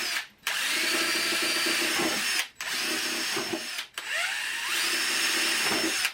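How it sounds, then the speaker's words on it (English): Power drill boring holes to fix a meter in place, three long whining bursts separated by brief pauses, loud and close with no talk. "we'll just go ahead and we'll drill the holes to retain the meter as well"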